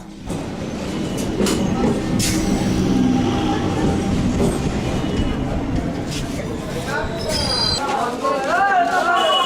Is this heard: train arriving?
yes